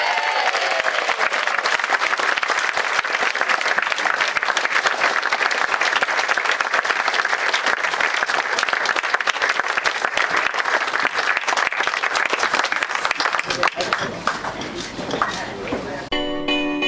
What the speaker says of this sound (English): would you please a big round of applause for Tranmere Rovers Doris Roberts Memorial